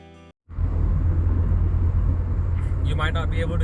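A car drives along a road, heard from inside as a sudden, steady low rumble of road and engine noise that starts after a short quiet moment, with a voice speaking briefly near the end.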